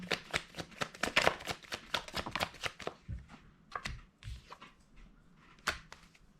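Tarot cards are shuffled by hand up close, a quick series of crisp flicks and riffles that thins out into a few scattered snaps, with no voice over them.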